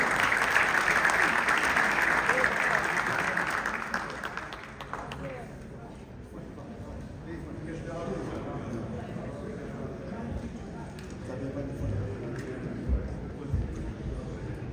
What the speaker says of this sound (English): Let's give a round of applause to Imam Tahir Kukaj.